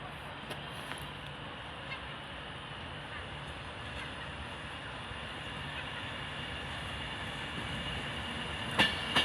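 An Avanti West Coast train to Manchester Piccadilly at Crewe station on the West Coast Main Line, a steady low rumble of rolling stock and idling engines with faint distant clanks, a couple of sharper knocks near the end.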